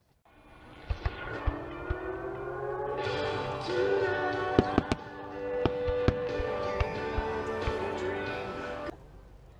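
A fireworks display at the Oshkosh airshow: sharp pops and cracks spread through a dense, roaring crackle that swells and lasts several seconds, heard from a distance with crowd noise underneath.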